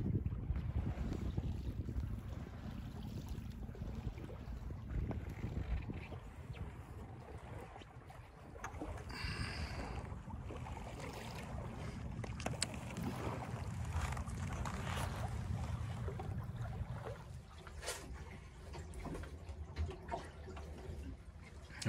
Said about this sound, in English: It's the sound of solitude and sailing. We're just sailing.